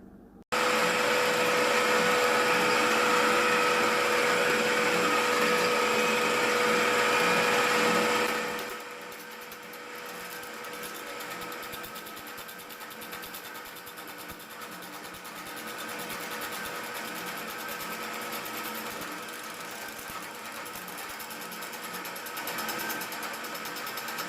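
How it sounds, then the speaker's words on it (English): A homemade drill press lathe runs with a loud, steady high-pitched motor whine for several seconds, then drops to a quieter, rougher hum as shaping continues on the workpiece. "Now I'll tighten everything up, turn it on, and we'll do a little bit of shaping"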